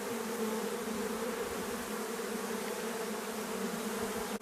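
A honeybee colony in a drone-laying hive with drone brood, giving a steady, dense, continuous buzz that stays close and even throughout with no other sounds.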